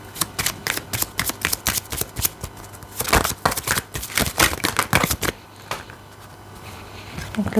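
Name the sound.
shuffling oracle cards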